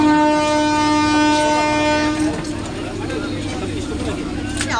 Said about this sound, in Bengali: এই যে আমাদের 3:25 ট্রেন